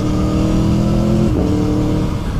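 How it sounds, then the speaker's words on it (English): A sports bike engine revving hard with a quick shifter and blipper gear change, a brief dip and shift in the loud engine drone midway before it pulls on again, close and continuous. "The quick shifter and blipper are good on this, but perhaps not quite as good as the GSXR."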